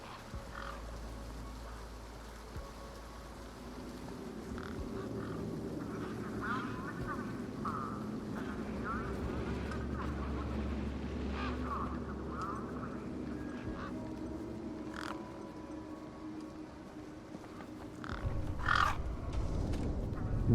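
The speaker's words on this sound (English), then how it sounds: "These were tough desert birds." Desert birds caw in the PC game Beyond a Steel Sky, with harsh calls rising intermittently over a steady, droning ambient background and growing louder toward the end.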